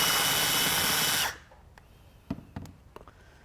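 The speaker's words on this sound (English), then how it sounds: "I'm just going to come in with the drill and start drilling" A power drill bores into the metal of a snap backed by a piece of wood, a loud continuous whine that cuts off abruptly, followed by a few faint clicks and knocks.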